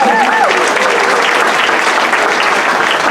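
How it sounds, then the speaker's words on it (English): Loud applause from a concert audience at a band concert in Boynton Beach, Florida, honoring a featured vocalist; dense sustained clapping throughout, with a voice briefly speaking over the start. "Can we also please have another round of applause for our featured vocalist,"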